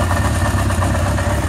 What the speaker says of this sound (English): What I want to do is I want to increase the RPMs a little bit.